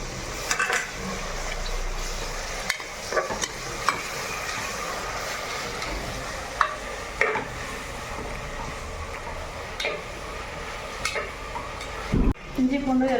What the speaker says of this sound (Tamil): இஞ்சி பூண்டு எல்லாமே வதங்கிடுச்சு ஃப்ரெண்ட்ஸ்.